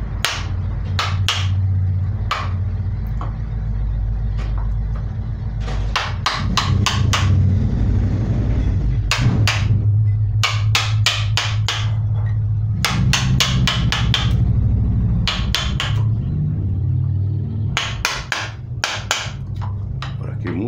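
Sharp hammer blows strike while a carob tree stump is carved for bonsai, landing in irregular clusters of rapid knocks over a steady low rumble, loud and close.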